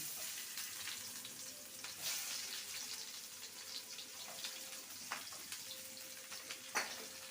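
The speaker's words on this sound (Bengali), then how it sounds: "পেঁয়াজটাকে ভেজে নেব" A medium-sized chopped onion fries in oil in a pan, giving a soft, steady crackling sizzle with scattered sharper pops and no talking.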